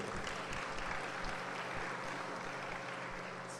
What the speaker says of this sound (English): You guys can clap, you know, give them a hand for this, I'd appreciate it.